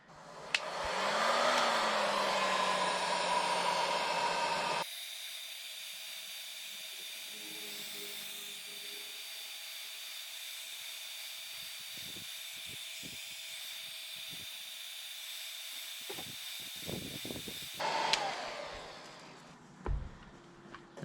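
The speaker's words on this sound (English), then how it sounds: "we'll start off with the heat gun" A heat gun blowing steadily at an old 23-year-old badge adhesive on a BMW E46 330i, a continuous airy whine and hiss held close for most of the span, with handling clatter at the end.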